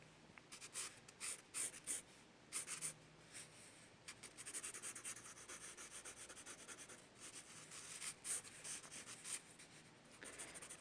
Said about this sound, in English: I like to scribble.